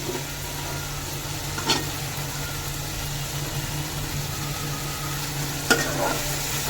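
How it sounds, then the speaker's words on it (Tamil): Tomato and garlic sauté in a pan with a steady close sizzle, two sharp utensil knocks standing out over a low background hum; no one speaks. "கொஞ்ச நேரம் வதங்கட்டும்."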